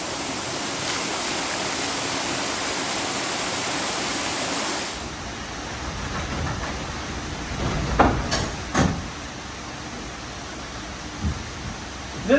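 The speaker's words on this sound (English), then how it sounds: "Now I'll engage the lantern gear, allow water onto the tub wheel," Water rushing onto a tub wheel in a historic 1800s sawmill, a dense steady roar that drops away midway, leaving a quieter flowing hiss with a few clunks of machinery.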